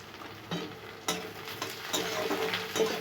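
Tomato dropped into a pan of fried onions for a Bengali pomfret fish curry, bringing a steady close sizzle with small stirring scrapes and a couple of sharper bursts as pieces land.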